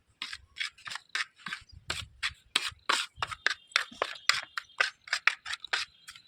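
Dry coriander powder, salt and spices hand-mixed in a bowl for a whole-fish tandoori marinade, a quick run of short rustling, scraping strokes in a steady rhythm, close and fairly quiet with no talk.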